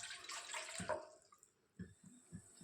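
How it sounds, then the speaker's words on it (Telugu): Water pours into a cooking pan in a brief, quiet splashing stream, followed by a few soft drips and clinks. "ఇప్పుడు ఒక ప్యాన్ తీసుకొని అందులో 3 కప్పుల నీళ్ళని వేసుకుంటున్నాను"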